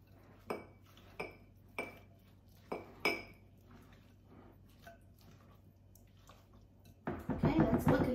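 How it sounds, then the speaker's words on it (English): A broccoli salad stirred in a bowl with a utensil: about five crisp, fairly close clinks in the first few seconds, a quieter stretch, then a louder burst of mixing and rustling at the end. "stir this up"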